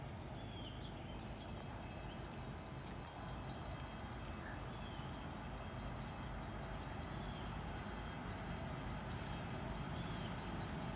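Norfolk Southern freight train NS 371, led by SD70ACe/SD70AIC locomotives, passes as a steady broadband rumble of rolling cars with faint squeals, continuous and moderately distant throughout.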